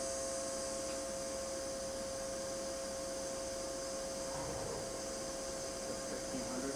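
Milltronics vertical machining center with a BT40 spindle running at 1500 RPM, a steady, even mechanical hum with a constant tonal whine and a broad hiss, holding unchanged at a moderate level.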